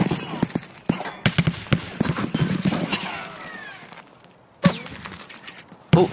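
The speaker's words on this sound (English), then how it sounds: "someone else is shooting us" Gunfire in Escape From Tarkov comes as sharp, loud bursts of rapid shots, then a lull and a few isolated heavy reports, with players talking between the shots.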